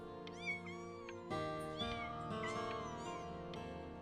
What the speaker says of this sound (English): Listen to all those little kitties.